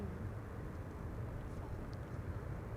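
A KLM Boeing 777-300 arriving at Amsterdam Schiphol from Sao Paulo gives a steady, broad distant jet roar that holds evenly throughout with no break.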